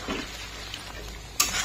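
Potatoes fry in a pot for a vegetarian Bengali aloo dum while warm water is added and stirred in: a steady close sizzle, then a sudden sharp hissing burst near the end.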